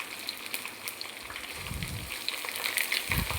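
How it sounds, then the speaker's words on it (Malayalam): Dried chillies and curry leaves sauté in hot oil, giving a steady close crackle and sizzle with a few louder spits and pops, no voices. "നമ്മൾ കറിവേപ്പില ചെറുതായിട്ടൊന്ന് മുറിച്ച് വെച്ചത് അതിലേക്കിട്ട് ഒന്ന് വഴറ്റുക"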